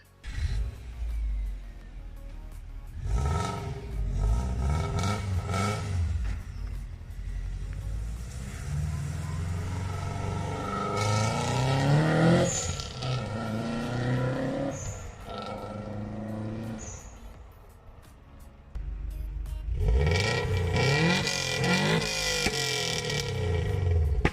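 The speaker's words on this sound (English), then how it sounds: "So this is my Subaru Forester." A turbocharged Subaru Forester XT SG5 engine revving in repeated loud, rising and falling sweeps with throaty roar, close by, with brief dips between revs and no talk.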